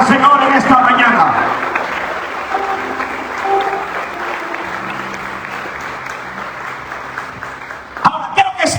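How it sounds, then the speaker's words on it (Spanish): A church congregation breaks into sustained, loud applause during a morning service, the dense clapping filling the room while a preacher keeps speaking over it, then the applause tapers off. "Dale el aplauso fuerte al Señor en esta mañana"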